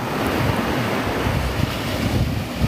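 Ocean waves break steadily on a surf beach in the evening, a continuous loud roar of surf mixed with wind noise, with no voices.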